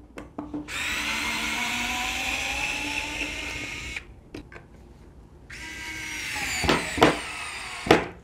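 A Ronix 8591 electric screwdriver driving a screw into plywood, with a close, steady whirring motor that pauses briefly before revving again, plus a few sharp clicks and knocks near the end.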